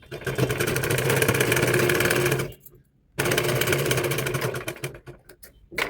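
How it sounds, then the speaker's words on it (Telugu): Sewing machine stitching the back of a blouse, a loud continuous close whirr with a brief stop in the middle, then another steady run that breaks into short bursts near the end, with no voices. "కుట్టు మధ్యలోంచి ఇలా కుట్టుకుని రావాలి"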